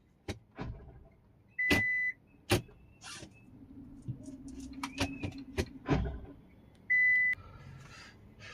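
An AMT semi-automatic car is shifted into reverse, with several sharp clunks and knocks plus short electronic beeps inside the cabin, heard close and fairly loud against a quiet background.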